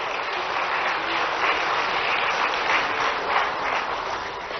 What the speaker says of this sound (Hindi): आप लोगों से निवेदन है कि जोरदार तालियों से उनका स्वागत, वंदन, अभिनंदन करें